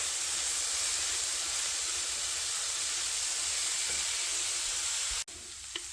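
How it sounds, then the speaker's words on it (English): Garlic sautéing in a pan for a chicken tortilla casserole, a constant, even sizzling hiss heard close up that cuts off abruptly near the end before resuming more quietly. "So we'll incorporate that and give it a little saute"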